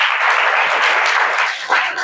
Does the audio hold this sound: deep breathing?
no